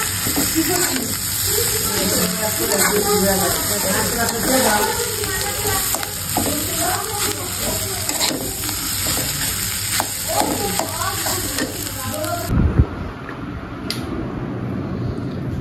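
Eggs frying in a pan in a home kitchen at dinnertime, a steady close sizzle with stirring clatter running throughout, with a sharp change in texture near the end; background voices are faintly present.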